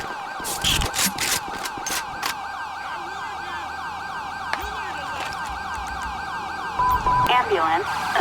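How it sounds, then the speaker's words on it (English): An ambulance siren in Grand Theft Auto V wails continuously and loudly throughout, with a few short whoops and brief radio voices over it. "Ambulance."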